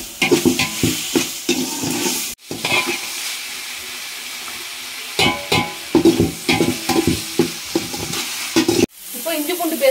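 Tomatoes sauté with coarse salt in a pan, loud close sizzling broken by rhythmic bursts of stirring and scraping, with brief pauses between rounds of activity.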